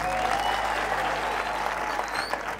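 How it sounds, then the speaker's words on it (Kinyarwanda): Audience applause at a Rayon Sports football club visit to G.S Muhato school, steady dense clapping from a crowd filling the whole moment without pause. "Amashyi yanyu hari inyuma, amashyi menshi cyane."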